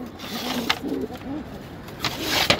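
Pigeons in a loft give soft, repeated throaty coos in short bursts close by, with a few sharp clicks and rustles between the calls.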